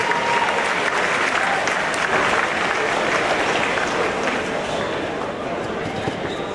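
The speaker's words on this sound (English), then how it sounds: "Let's give them a big round of applause for their service." A large crowd applauds at a high school athletic hall of fame ceremony in a gym, dense continuous clapping that holds loud and steady throughout, tapering only slightly near the end.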